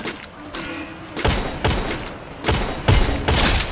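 Gunfire in the Free Fire battle royale mobile game comes as several loud bursts of rapid shots, separated by short gaps, with a little faint background chatter.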